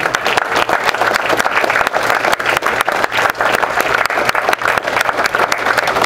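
Sustained audience applause fills a commemoration ceremony marking the 62nd anniversary of May 16, honoring Korean War and Vietnam War veterans, dense steady clapping from a large standing crowd throughout.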